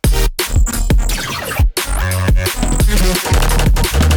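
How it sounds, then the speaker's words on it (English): Loud electronic music drop with punchy, heavy bass hits and brief gaps of silence, a driving rhythmic pattern with bright synth layers. "Second part of the drop sounds like this."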